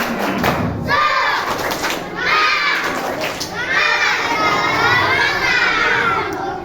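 Schoolchildren at an Islamic elementary school morning gathering shout a "tepuk semangat" clapping chant in unison, loud and near, in repeated bursts with thumps and crowd noise between them.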